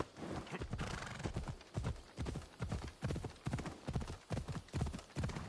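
Rhythmic clip-clop of hooves at a steady gallop in the video game Assassin's Creed Odyssey, close and loud, with a brief horse whinny mixed in.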